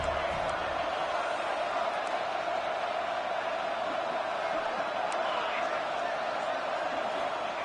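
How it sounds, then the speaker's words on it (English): Broad, steady roar of a football stadium crowd cheering loudly as the defense tries for a fourth down stop, a continuous wash of massed voices heard from a distance and without letup. "Crowd is loud, hoping for a 4th down stop."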